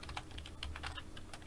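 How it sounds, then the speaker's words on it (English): Quick, light keystrokes on a computer keyboard patter in an uneven run while text is entered on a website page, close and fairly quiet with no voices. "I'm just going to type in there"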